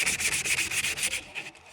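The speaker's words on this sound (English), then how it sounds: "just sand the whole thing so that it's even" Rapid back-and-forth sandpaper strokes rasp over the surface of a drinking horn being evened out for painting, close and steady, fading near the end.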